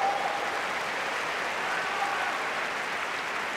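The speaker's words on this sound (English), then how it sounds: "even Kerber has to clap this one" Steady applause fills a tennis stadium at a Pan Pacific Open semifinal, a dense, even clapping from the crowd sustained for several seconds without speech.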